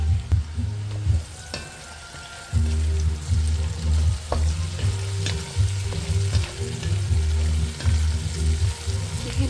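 Diced potatoes and onions fry in hot oil in a pan, a dense crackling sizzle with spatula scrapes and stirring knocks, loud and close, briefly dipping before resuming.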